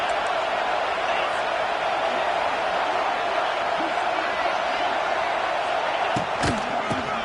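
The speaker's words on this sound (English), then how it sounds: "This crowd is trying to inspire this defense to make a big red zone stop." A loud football stadium crowd roars steadily throughout a college game as fans urge the defense toward a red zone stop, a dense wall of cheering with a few sharp bangs near the end.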